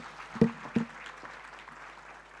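Audience applause at a student laptop giveaway event, a crowd clapping with two louder claps near the start, then a steady spread of clapping that fades slightly.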